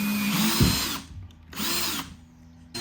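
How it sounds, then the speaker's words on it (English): A power drill countersinks holes in the plywood bottom of a cabinet in a DIY Ram ProMaster camper van build, with two whining bursts of the motor separated by short pauses and a third starting at the end. "countersinking holes on the bottom to add extra security to these"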